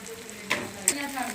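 Chicken and lentil shami kababs fry in a pan with a steady low sizzle, and two brief louder crackles or stirring knocks cut through near the middle. No one speaks.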